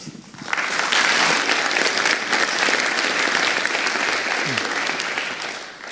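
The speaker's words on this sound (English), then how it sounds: "please give a round of applause to Erika" A conference audience breaks into loud, sustained applause as a speaker is welcomed to the stage on serverless computing. The clapping rises sharply and stays full, with no talking over it.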